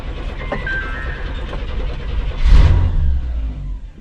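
A Chevy 454 V8 in an '88 RV runs on a manual choke, a steady low engine rumble that swells into a louder surge of revs partway through, then settles back to a rough, close idle.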